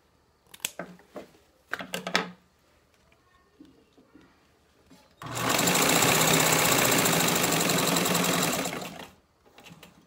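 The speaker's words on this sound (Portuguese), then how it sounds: "E continuo costurando reto." Sewing machine stitching a straight seam on a fabric holder, a loud, steady whir lasting about four seconds, preceded by a few short handling clicks and thumps.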